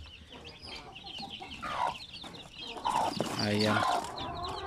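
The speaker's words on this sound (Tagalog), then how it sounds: "ang dami na po nating mga manok dito" Native chickens on a farm cluck in a busy, close flock, with a rooster-like call rising partway through while someone talks over them.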